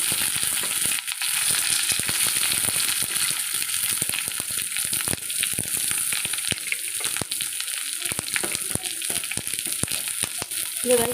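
Onions frying in a pan for a carrot and beetroot stir-fry, a loud, dense crackling sizzle that runs continuously with rapid popping, close up and without speech.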